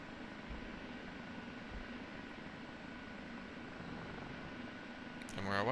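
An OH-58D Kiowa Warrior helicopter loaded with four Hellfire missiles lifts off in the DCS flight simulator, giving a steady, dense turbine and rotor roar that swells louder at the very end.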